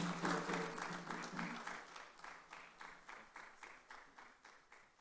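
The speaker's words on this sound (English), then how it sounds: "Another round of applause for him, ladies and gentlemen." Audience at a mobile technology for development conference in Ghana claps after a speech, starting as a moderate burst and thinning into rhythmic, fading claps.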